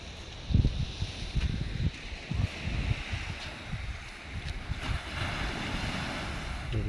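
Waves break on the beach at Cabourg, a seaside town in Normandy, with a steady wash of surf and gusty wind buffeting the microphone.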